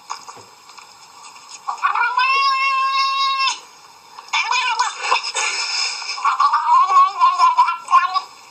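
A cat meows loudly and close in long, wailing calls, a sustained yowl, then a rough, gargling cry, then a wavering, warbling meow near the end, with short quiet gaps in between.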